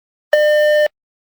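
A single electronic beep marking the start of a test recording, a clean steady tone lasting about half a second, clear and alone against silence.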